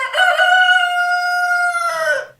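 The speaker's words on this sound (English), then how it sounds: "her witch's familiar, a rooster named Old Boreas, only crowed at midnight." A rooster crows once, a loud, close, drawn-out cock-a-doodle-doo that holds a steady pitch before dropping away at the end, heard alone against silence.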